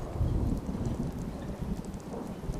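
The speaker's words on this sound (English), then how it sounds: "I love the storms." A thunderstorm in the video game Fallout 4, steady rain hissing with low rumbling thunder underneath, a continuous wash of sound with no talking.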